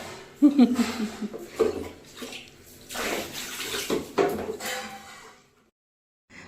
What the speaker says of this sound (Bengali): জল তুলে মাথায় দাও।